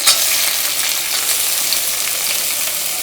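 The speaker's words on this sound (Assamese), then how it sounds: "মোৰ মেথি গুটিকেইটাও এতিয়া ফ্ৰাই হৈছে" Fenugreek seeds and onion frying in a little oil, a loud, close, continuous sizzle that holds steady throughout with no speech.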